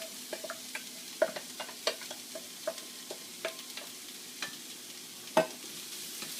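Onions frying in a pan for Chilean empanada filling, with faint low sizzling and a series of sharp scrapes and taps from stirring spread through the clip.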